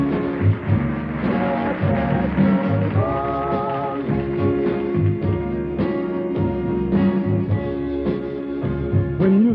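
A Motown hit record plays steadily, with lead vocals over a full band arrangement of bass, drums and backing instruments, sounding like a played recording.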